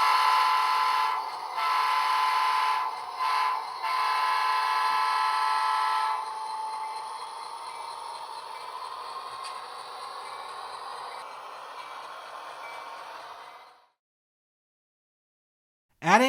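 A DCC-controlled model train runs on a layout, a steady mechanical whir with a few horn-like blasts early on, the running continuing evenly before fading out to silence near the end.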